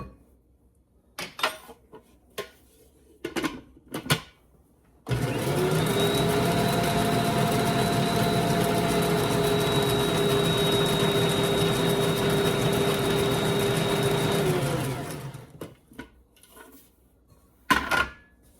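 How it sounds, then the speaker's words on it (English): Electric mixer whirring steadily through peanut butter cookie dough for about ten seconds, a loud continuous motor drone with a faint tonal whine, bracketed by scattered knocks and handling clatter before and after. "I'm going to let this mix for just a moment before I add my flour"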